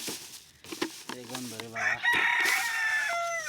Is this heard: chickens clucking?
yes